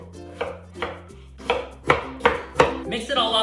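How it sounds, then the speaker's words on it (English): A knife julienning daikon radish on a cutting board, making a series of crisp, distinct chops in an uneven rhythm, close and fairly loud with a clatter at the end. "First, Julienne the radish."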